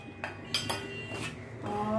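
Cooled masala is scooped into a mixer grinder jar in a home kitchen, giving a few sharp metallic clinks and scrapes of a spoon against the jar, close and moderately loud.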